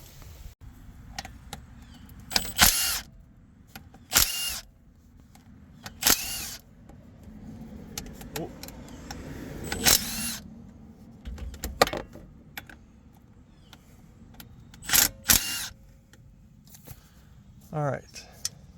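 Milwaukee power tools rattle and whir in short bursts while the front differential cover comes off a Jeep JK Rubicon, with clinks of bolts and metal handling between them and a voice talking over the work.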